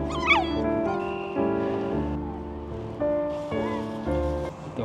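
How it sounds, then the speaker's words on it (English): A dog waiting outside a Waitrose supermarket whines in high, wavering cries over a steady background of music or ambience, with a few brief whimpers rising and falling. "although Nelly's whining a bit"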